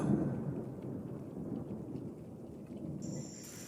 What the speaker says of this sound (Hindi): बारिश की वजह से आज अंजलि बाहर नहीं आ सकती